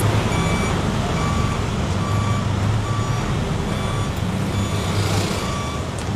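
A tow truck backing up in front of a restaurant, its steady repeating reversing beeps sounding over a continuous low engine rumble and road traffic noise, with no talk.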